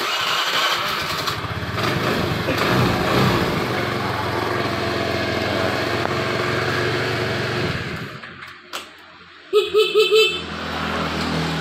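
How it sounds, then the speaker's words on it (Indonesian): A Honda Vario 110 scooter, just after a fuse replacement, cranks and runs with a steady buzzing engine for several seconds, then cuts off, followed by a few short horn toots near the end. "coba kita kunci kontak on nah ini sudah nyala bosku ya kita starter"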